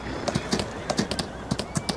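Horse hooves clip-clopping in Farming Simulator 19, a quick rhythmic series of close, crisp hoofbeats repeating steadily over a faint background hum.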